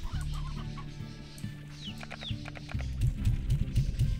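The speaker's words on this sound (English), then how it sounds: "Let's put the chicken back in here." Chickens in the Slime Rancher video game clucking repeatedly near the listener, with short bursts of clucks in uneven rhythm over a low game hum, growing louder and busier toward the end.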